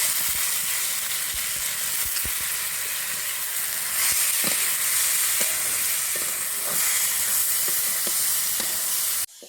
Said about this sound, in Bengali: এবার আমি তেলে ভেজে নেবো।